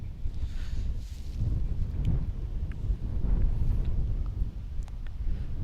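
Strong wind buffeting the microphone at an outdoor cricket ground during a T40 division grand final at Robert L. Smith Park, Charlotte, a steady loud low rumble with gusts throughout.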